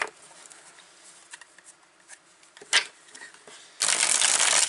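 Tarot cards being shuffled: scattered soft flicks and snaps early on, then a loud continuous riffle near the end.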